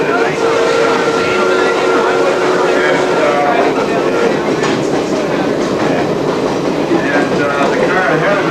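Loud, steady rumble of a Canadian Pacific passenger rail car, number 1437, rolling along the tracks, with continuous clatter and a faint squeal, and someone talking over the noise.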